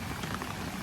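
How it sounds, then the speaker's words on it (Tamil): Heavy rushing water at Bheeman Waterfalls in the Jawadhu Hills after several days of heavy rain, a steady broadband roar with no breaks, heard continuously and evenly through the short stretch. "தண்ணி சவுண்டு ஃப்ளோ அதிகமாக இருக்குன்னு நினைக்கிறேன்."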